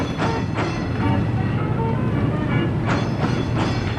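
An Old Town Trolley tour vehicle rolls through San Diego, giving a steady low rumble with faint rhythmic clatter and a couple of brief rattles, with no talking.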